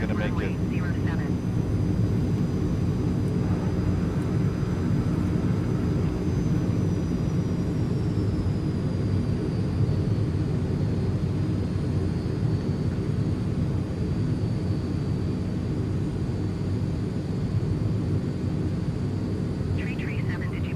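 Transall C160 cargo aircraft from Microsoft Flight Simulator on a landing approach, a steady loud engine drone and rushing airflow filling the whole stretch, with a voice talking over it.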